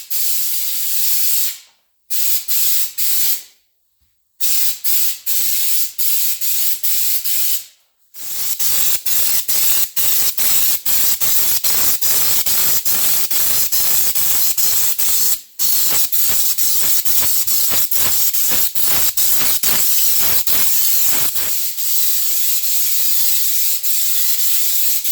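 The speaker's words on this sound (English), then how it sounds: "I'll get this all hooked up now and get in and start spraying it." A loud, steady hiss of a spray can applying thick textured body coating to a surface, with a few short pauses early on before it sprays continuously.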